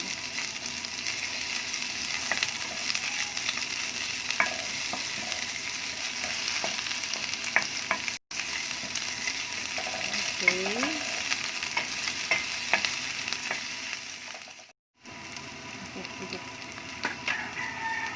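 Onion frying and stirred in a pan for chicken curry, a continuous sizzle with scraping stir strokes, close and moderately loud, with a couple of brief dropouts and a voice speaking over it.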